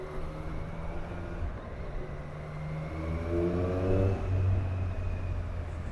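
A 2021 Triumph Street Triple R motorcycle ridden on the road after a service, its engine droning steadily with rising tone as it accelerates, mixed with wind rush, no voices.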